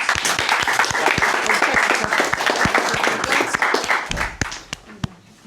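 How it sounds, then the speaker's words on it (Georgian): A crowd applauds steadily, a dense wash of clapping that thins out and fades to a few scattered claps at the end. "კიდევ ერთი ტაში"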